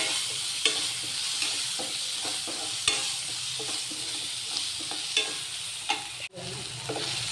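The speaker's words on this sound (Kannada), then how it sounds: "ಒಂದು ಸ್ಪೂನಷ್ಟು ಟೊಮೆಟೊ ಸಾಸ್ ಹಾಕ್ತಾಯಿದ್ದೀನಿ." A spoonful of tomato sauce stirred into cauliflower gobi manchurian frying in a home kitchen pan: a constant loud sizzle broken by regular sharp scrapes and knocks of the spoon.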